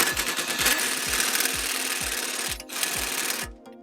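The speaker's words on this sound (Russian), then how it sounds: "Затягиваем гайки рулевых наконечников" Tightening tie rod end nuts on a Mitsubishi Lancer Evolution X during steering rack replacement: a close, regular mechanical knocking repeats about twice a second, then cuts off near the end.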